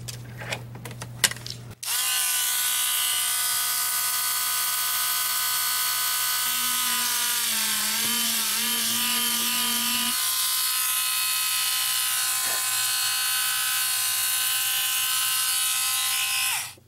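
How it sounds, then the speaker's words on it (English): A small electric drill enlarges a hole in a handmade pendant, running as a steady high-pitched whine for about fifteen seconds, with a brief dip in pitch midway as it bites, close and with no talking. "Oh, I might have to drill that a little bit bigger."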